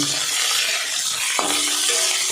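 Cauliflower florets frying in a pan for a yogurt-steamed dish, a dense continuous sizzle up close with a brief utensil knock midway.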